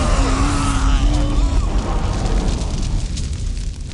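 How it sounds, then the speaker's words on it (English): A heavy booming blast from a Titan cannon in the video game Dawn of War: Dark Crusade, with a rumbling roar that slowly fades, a brief whistling tone riding on top early on. "On my command, fire the Titan cannon."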